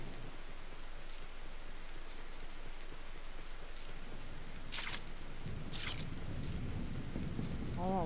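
Steady rain falls in the Raining Fields area of the video game .Hack//G.U. Last Recode, a constant even hiss throughout with a couple of brief bright bursts and a faint tonal game sound near the end.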